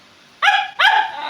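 A puppy gives two short, sharp barks close by, one after another with a brief gap, with no other sound around them.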